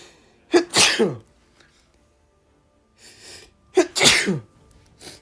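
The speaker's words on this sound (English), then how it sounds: "Oh, I think I might sneeze." Two sharp, loud sneezes a few seconds apart, each with a quick intake of breath before it and a hissing burst, quiet in between.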